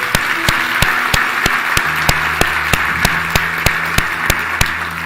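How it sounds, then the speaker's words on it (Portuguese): A church congregation claps together in a steady rhythmic beat, loud and even, over faint sustained musical tones. "Você pode aplaudir ao Senhor?"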